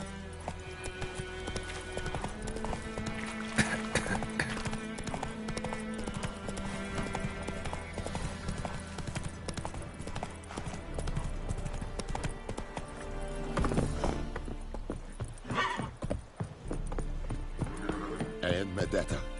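Horse hooves gallop in a steady clip-clop rhythm in The Witcher video game. Game music plays underneath, and a voice speaks briefly.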